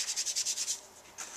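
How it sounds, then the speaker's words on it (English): Chocolate chip ink is rubbed onto an embossed paper card in quick, even strokes, producing about eight soft, close scrubbing sounds in a steady rhythm, then a brief pause and one final rub. "rub on top of the embossed part so that you get a beautiful vintage look to this"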